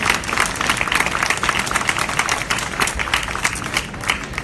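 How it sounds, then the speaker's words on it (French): An audience at an award ceremony breaks into loud applause, many hands clapping densely and close with a lively, uneven rhythm throughout. "On peut l'applaudir."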